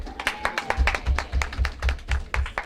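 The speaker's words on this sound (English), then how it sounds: "St. Andrew, you never clap loud enough for that." Audience at a press launch for the JTA/Sagicor National Championships clapping for the St. Andrew team: a loose, uneven patter of hand claps from a modest crowd, fairly close, with distinct individual slaps rather than a thick roar.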